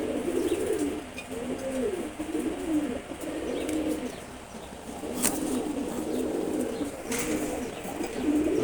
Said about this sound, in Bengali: সিলভার গোর্রা কবুতর জোড়া দুটা আজকে খুবই সুন্দর লাগছে।